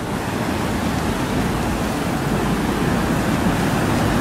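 A waterfall at Baume-les-Messieurs in the Jura gives a steady, loud, broadband rush of falling water, unbroken and even throughout with no other sounds.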